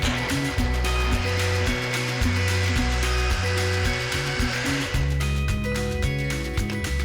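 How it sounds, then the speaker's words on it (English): Blender pureeing ingredients for a Mexican-style mac and cheese, a steady loud motor whir running throughout with shifting pitch as the contents churn, no talking over it. "I'm gonna puree these until completely smooth."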